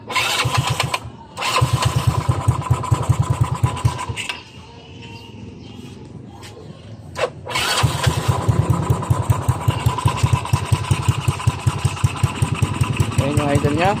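A Mio Fino 160cc scooter with a 28mm roundslide carburetor chugs at a low idle with a steady, close, pulsing putter. It dips briefly into a quieter patch before settling back into its even beat, and a voice talks over it.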